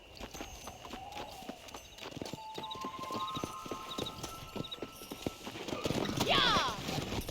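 Horse hooves clip-clopping in a Red Dead Redemption ride, a steady rhythmic gallop under game music and effects, with a horse whinnying loudly near the end and a voice speaking briefly.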